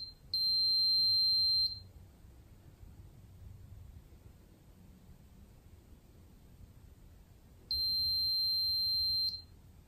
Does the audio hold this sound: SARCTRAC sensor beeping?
yes